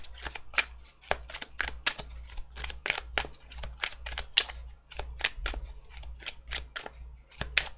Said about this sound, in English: This deck hasn't really been broken in, so it doesn't shuffle as well as I would like it to.